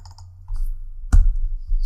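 Mouse clicks inside audio software, a few sharp isolated clicks over a steady low hum, close and fairly quiet, with no talking.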